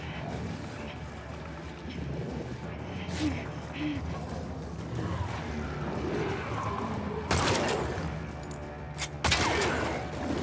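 Gunfire in the video game The Last of Us Part II, with two sharp, loud shots late in the clip over a low rumbling game ambience.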